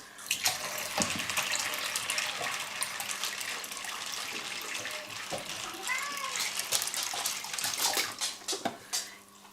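Purified water poured over soybeans soaking for homemade tofu, a steady running splash filling the container for the full stretch while voices talk over it.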